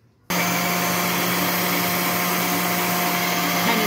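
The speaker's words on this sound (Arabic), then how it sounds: "نديهم كده ضربه في الخلاط." An electric blender switches on abruptly and whirs at a loud, steady pitch, blending oil with sesame for homemade tahini, with a continuous motor whine and no talking.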